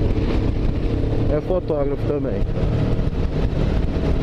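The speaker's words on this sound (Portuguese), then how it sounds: "tá muito vento aqui" Strong outdoor wind buffets the microphone continuously on a coastal outing in Rio de Janeiro's Lagos region, a loud low rumble under someone speaking Portuguese throughout.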